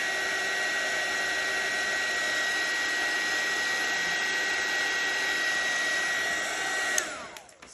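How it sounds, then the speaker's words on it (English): A hairdryer blows steadily on a wet painting of a rainbow lion, a loud, even whirring roar with a high whine that holds for about seven seconds before switching off and winding down. "you use your hairdryer"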